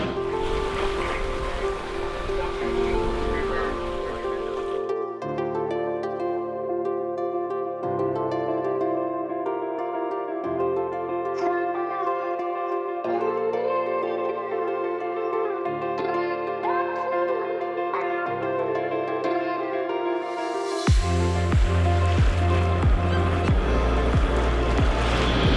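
A sailboat's engine runs below deck while motoring off Seattle in autumn, making a steady, loud droning hum that fills the cabin without a break. A brief surge of rushing noise comes near the end.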